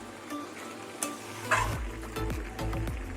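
Biuli (urad) dal pachan cooking over a low gas flame: a steady sizzle with spoon scrapes and stirring clatter in the pot, close and fairly loud, growing fuller after the first second and a half.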